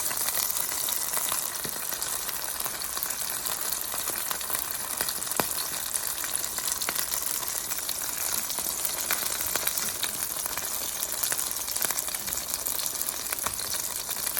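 Korean BBQ meat on a grill gives a constant, even sizzle after being flipped, a dense close hiss with faint crackles and no voices.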